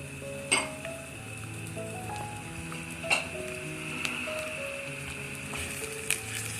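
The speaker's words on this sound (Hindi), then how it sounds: "अब हम इन सब को इकट्ठा भूनेंगे।" Onion and tomato fry together in a pan for a potato and bell pepper dish, giving a quiet, steady sizzle broken by a few sharp clinks of a utensil against the pan.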